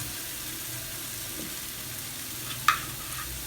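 Green chilies and salt frying in a pan for chicken biryani give a steady low sizzle with one sharp clink of a utensil near the end, no talking.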